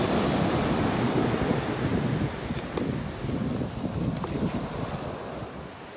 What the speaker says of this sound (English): The stormy sea has overflowed much of the beach and is in fact continuing to do so